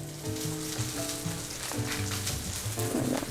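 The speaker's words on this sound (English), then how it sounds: "now I'm adding a little bit of lemon and some of this butter" Chilean sea bass pan-frying with lemon and butter, a dense, even, close sizzle with light crackling and a few faint clinks.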